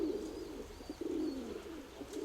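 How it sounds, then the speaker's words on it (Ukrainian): Pigeons cooing close by at a rooftop loft, soft low repeated coos in an uneven rhythm, with faint chirps above and no talk. "Я дивлюсь, голуби заглядають."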